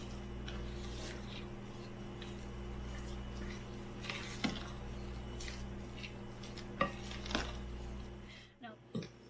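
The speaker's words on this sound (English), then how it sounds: "I'm mixing this up" Pumpkin bread batter being mixed in a bowl: a continuous soft rubbing and stirring scrape over a steady low hum, with a few sharper knocks near the end.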